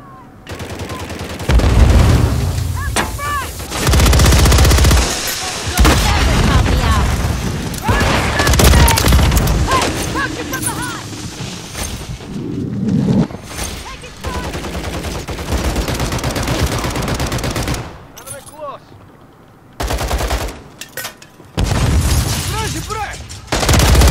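Gunfire in the video game Call of Duty Modern Warfare 3 multiplayer: sustained loud bursts of automatic fire and booms with brief gaps between volleys.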